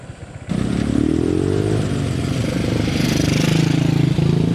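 A motorcycle engine runs steadily on a mountain road near Mount Semeru and Bromo, its low, rough drone holding close and loud, with a rising tone as it revs after a brief quieter start.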